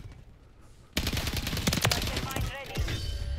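STG-44 assault rifle fire in a first-person shooter, hip-fired up close in bursts: a sudden loud onset after a quiet second, then rapid overlapping shots and impacts continuing to the end.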